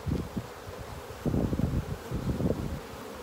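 Saskatraz honey bees buzz faintly around an open hive at an apiary, mixed with wind rustle and low handling noise close to the microphone.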